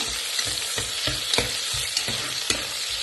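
Sliced onions fry in a pan for a vegetable soya palav, cooking toward light golden brown, with a steady close sizzle broken by regular scraping stirs of a spatula about every half second.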